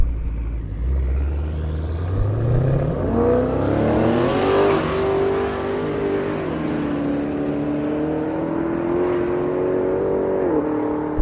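A 2010 Camaro SS and a BMW 330 launch side by side at a no-prep drag strip, one loud engine revving up and screaming through rising gear pulls with brief dips at each shift, steady and close throughout.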